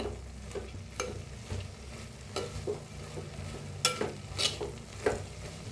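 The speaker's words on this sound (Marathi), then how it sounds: "तर मटकी छान अशी भाजलेली आहे" Moth beans dry-roasting in a clay pot, stirred with a spoon that scrapes in irregular bursts over a soft, steady crackle, close and moderately quiet with no voices.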